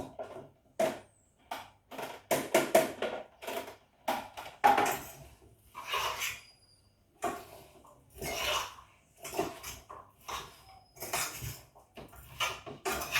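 Potatoes and carrots clatter into a pot with coconut oil for Jamaican curry chicken, a string of close, sharp knocks and scrapes in irregular bursts with short pauses between.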